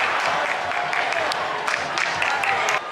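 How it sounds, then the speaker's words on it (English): A large crowd on Washington DC streets celebrates Biden's election with sustained cheering, clapping and singing, a loud continuous roar with scattered sharp claps that drops off slightly at the end. "Lots of people very excited, very happy, singing, dancing, cheering."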